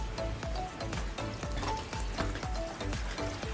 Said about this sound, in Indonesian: dikosok pakai kasa yang seperti ini.